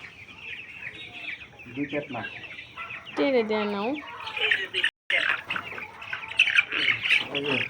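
Chickens squawk and cluck loudly in bursts while being caught, with agitated rooster-like calls, a brief cutout midway, and people talking over the commotion.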